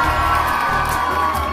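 Audience cheering and applauding at a promotional event in Amritsar for the Punjabi film "Khidari" and its star cast: a steady, dense crowd roar with whoops, loud and close, running throughout with no talk.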